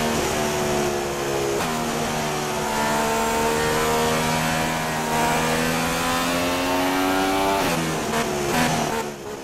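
Formula 1 cars in the F1 2016 video game revving on the starting grid, a loud sustained high engine whine with rising and falling pitch and sharp shifts, several engines layered together.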